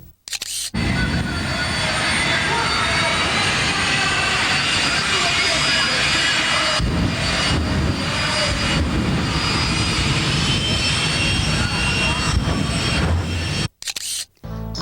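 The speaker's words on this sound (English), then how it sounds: "Imagine standing within a few feet of a jet car during its fire show." A jet car engine roars continuously at very close range during a fire show and race, a loud, steady, broadband blast that fills the whole stretch before briefly cutting out near the end.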